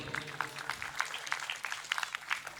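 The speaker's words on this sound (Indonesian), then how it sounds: "Kita berikan tepuk tangan yang meriah untuk Bapak Adiwibowo SSD." Faint, scattered applause from an audience at a formal Indonesian gathering: sparse, uneven claps, quiet and somewhat distant, lasting only a couple of seconds.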